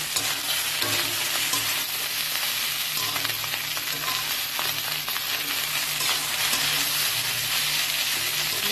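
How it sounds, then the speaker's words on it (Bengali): Rice sizzles and crackles steadily in a hot pan, with continuous frying noise and occasional scraping of a spatula stirring through it. "এই দেখো এখানে হচ্ছে আমাদের ভাত ভাজা"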